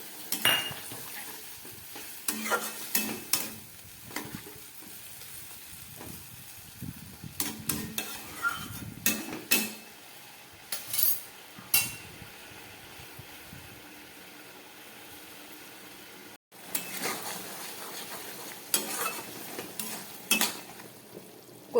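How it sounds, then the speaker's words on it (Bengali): Kochur loti (taro stolon) simmers in water in a pan with a soft steady sizzle, while a spoon gives scattered scrapes and clinks against the pan. "কচুরলতি ফুটে উঠেছে"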